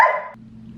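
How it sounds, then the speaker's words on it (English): A dog gives a single short, sharp bark close to the microphone, followed by a low fading tail of sound. "the dog is barking because he wants him to come out and play"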